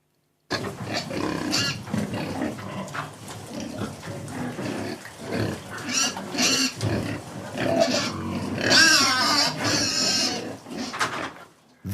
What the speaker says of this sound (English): Those be my pigs.